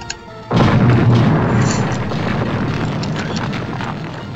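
Explosions boom in the Rampage World Tour video game: a sudden loud blast followed by a long, heavy rumbling roar that stays loud throughout.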